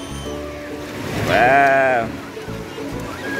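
Sea water rushes along a channel dug in the sand on a white-sand beach in Gresik, a steady wash of surf noise as a child calls out briefly over it.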